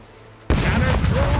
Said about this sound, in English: Cannon crew, give them a round!